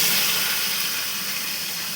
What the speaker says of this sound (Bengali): ততক্ষণে মাছটা ভাজা হচ্ছে